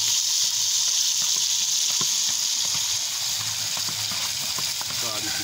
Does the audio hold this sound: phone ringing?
no